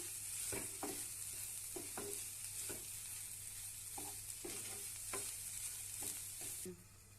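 Dried fish curry is stirred in a hot pan, with a steady soft sizzle under a series of irregular scraping spoon strokes, close and fairly quiet, with no voices.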